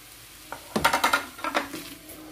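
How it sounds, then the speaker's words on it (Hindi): White onion is dropped into hot tuna in a pan: a quick run of clattering utensil strikes against the pan with stirring, then a softer scrape over a faint sizzle. "अब मैं इसमें ये ऑनियन ऐड कर रही हूँ"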